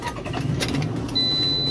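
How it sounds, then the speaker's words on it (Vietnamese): A 2007 Toyota RAV4 engine is started, with a short cranking burst that settles into a steady idle, close by and fairly loud, with a faint high electronic whine joining near the end. "Tôi sẽ nổ máy chiếc xe này lên để cho quý vị và các bạn cùng xem."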